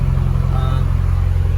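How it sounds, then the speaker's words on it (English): A car engine idles steadily in an open garage while warming up to operating temperature, giving a close, constant low rumble with a regular pulsing beat. "So now that the car is running, we're just going to let it get up to operating temperature."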